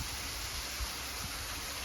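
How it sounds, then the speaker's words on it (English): A waterfall pours into a pond below, a steady, loud, unbroken rush of water close by. "Here is another waterfall"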